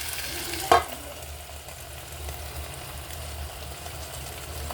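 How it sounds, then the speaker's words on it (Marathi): A metal lid set down on a pan of cooking vegetables gives one sharp clatter near the start, then low steady sizzling of the pan continues underneath. "आता आपण याच्यावरती झाकण ठेवूया"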